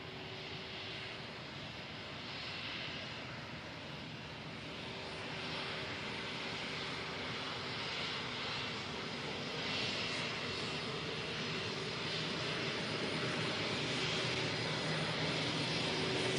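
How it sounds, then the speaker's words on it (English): An Embraer KC-390 Millennium transport aircraft taxis past at an air show, a steady, fairly distant engine drone that swells gradually toward the end without any voices. "as the KC-390 Millennium taxis past the commentary position"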